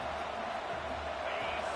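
A stadium crowd cheering in the college American football video game NCAA 26, a steady, dense roar of many voices running throughout at moderate loudness.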